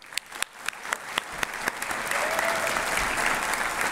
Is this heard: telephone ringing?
no